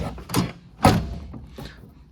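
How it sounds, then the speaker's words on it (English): The door of a mini truck with a broken structural piece that needs re-welding is opened and shut, giving two or three close, solid metallic thunks with a short rattle between them. "You can see when you open and close this door,"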